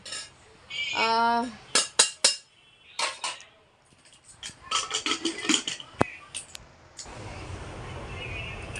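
A metal spoon scoops cooked rice out of a pressure cooker, giving a series of sharp clinks and scrapes against the pot with quieter gaps between them, ending in a softer rustle.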